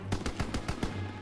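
Rapid automatic gunfire from the World War II shooter Call of Duty: WWII rattles out as a quick burst of about six shots over a low background drone, moderately loud.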